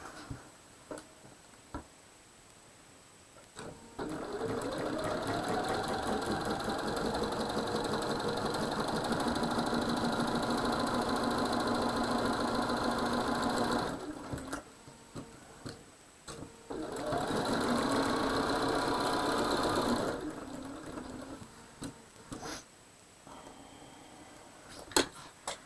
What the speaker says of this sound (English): let's sew this one together